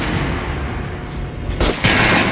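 Gunfire aimed at an armored target in the shooter game Metro Redux: two sharp, loud bursts close together near the end, rising out of a steady rumbling background.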